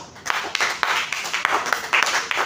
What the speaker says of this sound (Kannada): ಎಲ್ಲಾ ವಿದ್ಯಾರ್ಥಿಗಳಿಗೆ ಜೋರಾಗಿ ಚಪ್ಪಾಳೆ ಹೊಡೆಯೋಣ.